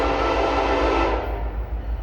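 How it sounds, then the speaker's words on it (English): Norfolk Southern freight train NS 171 approaching at dawn, a loud steady broadband rail rumble with deep low throb that holds strongly, then thins slightly toward the end, with no voices. "we've got a train coming, and it's still a little dark. It's NS 171, I believe."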